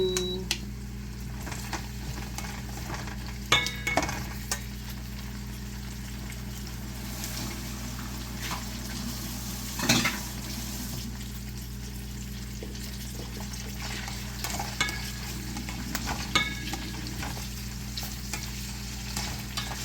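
Chicken frying in a pan gives a steady close sizzle throughout, with occasional clinks and stirring noises and a few brief sharper spikes, and no talking.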